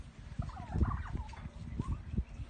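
Turkeys in a yard in Nepal gobble in quick bubbling bursts, several birds close by and fairly loud, with no talk over them.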